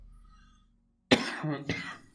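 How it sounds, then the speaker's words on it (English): A person coughs close to the microphone after a moment of near silence: a sharp first burst followed by a second hacking cough, fairly quiet overall. "I really wish I could stop coughing"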